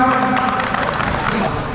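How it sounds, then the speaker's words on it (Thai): An outdoor crowd applauds at a rhinoceros beetle conservation festival in San Pa Tong as a winner is announced, with dense, steady clapping and crowd noise mixed with an amplified announcer's voice. "ขอเสียงปรบมือด้วยครับ"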